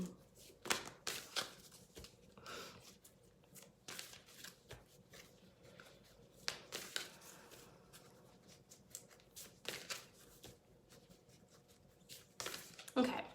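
A deck of Fairy Forest oracle cards is shuffled in irregular bursts of soft riffling and slapping, fairly quiet, with pauses between.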